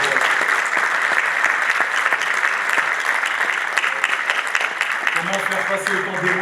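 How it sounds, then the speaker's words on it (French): A French live show audience applauds a performer named Abad with dense, sustained clapping. A voice begins talking over the clapping near the end. "applaudissements pour Abad"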